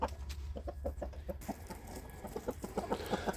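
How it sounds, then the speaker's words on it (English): Hens cluck in a series of short, rhythmic, close-up clucks that grow busier toward the end, with no talking. "Thank you, chickens."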